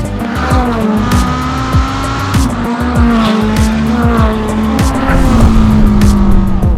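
An Australian-developed Spartan track car with a carbon-fibre body is driven hard around Rockingham. The engine screams loud and close through rapid rising and falling revs, with tyres squealing over the top.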